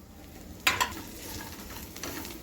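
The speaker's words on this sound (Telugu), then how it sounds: "ఒకసారి కలిపి బెండకాయ ముక్కలు వేసుకోవాలి పల్లీలు వేసుకోవాలి" Okra pieces and peanuts being deep fried: a utensil scrapes and stirs through the pan with a couple of sharp clinks, over a continuous soft sizzle of hot oil.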